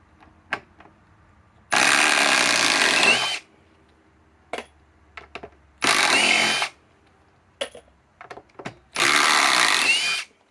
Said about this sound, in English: Let us run the little teeny weeny 2 amp hour METABO battery that's still fully charged on the METABO triple hammer bolt WH18DC.